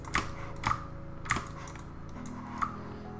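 Keyboard and mouse clicks at a computer workstation during 3D modeling in Maya, a few quick sharp taps in an irregular rhythm, close and quiet with no talking.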